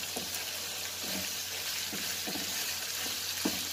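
Garlic shrimp frying in butter in a pan, a steady close sizzle with faint stirring clicks repeating every half second or so, no voices.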